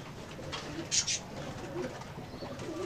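Pigeons cooing inside a loft, soft low coos repeating close by with a brief brighter chirp near the middle, over a steady hum of background noise.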